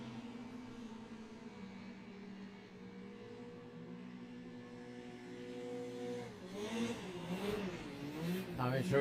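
Race car engines hum steadily at a distance on the Allerton circuit during a HCGB race meeting, then swell and waver as a car passes closer near the end.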